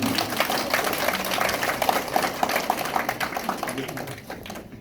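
Audience applause at a film-appreciation screening held by a Daejeon film association, a steady dense clapping from a crowd that holds evenly and fades toward the end, with faint voices underneath.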